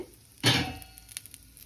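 Toor dal roasting in a hot kadai, a single sharp sizzling scrape as the lentils are stirred, then fading to faint crackles and light clinks, close and quiet with no talk.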